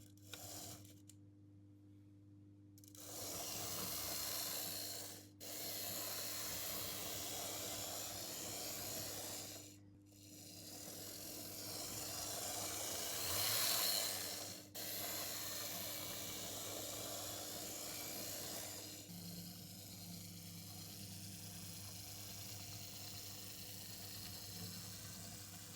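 A Fleischmann BR94 0-10-0 model steam locomotive runs on track with a steady mechanical whirr and rasp. The sound starts and stops in short bursts, has a few gaps and clicks, and stays close and quiet with no voice.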